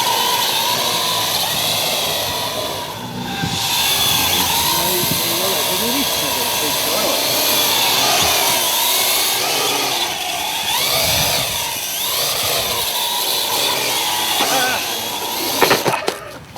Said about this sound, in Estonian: praegu tuul puhub päris kõvasti ja droon üritab ennast hoida